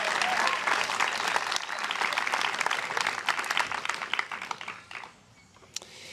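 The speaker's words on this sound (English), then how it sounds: "Let's give another big round of applause" Audience applause at a 2021 Maui Prep graduation ceremony after the band's performance, dense steady clapping that thins out and fades toward the end, with a few last claps.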